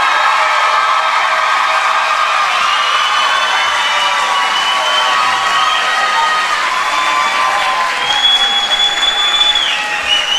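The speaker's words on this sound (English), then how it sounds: "Can I have one more round of applause for the class of 2014?" At the ILCS class of 2014 graduation, the audience breaks into loud sustained applause mixed with cheering and children's shouts and whistles, filling the hall throughout.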